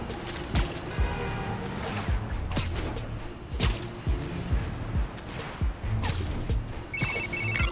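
A short electronic text-message chime from a phone in the Spider-Man: Miles Morales video game rings out late, amid repeated whooshes and thumps of in-game action.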